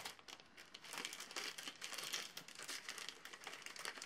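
Crinkling and rustling of a package sealed with sticky tape as it is pulled open, a continuous close crackle of plastic and paper with small tearing flicks, quiet and without talk.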